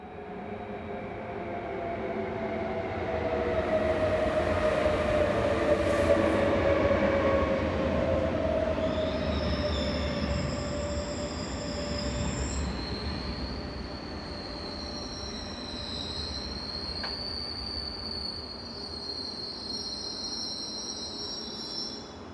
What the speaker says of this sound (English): The 1622 railjet service from Vienne calls at the station at 8:30.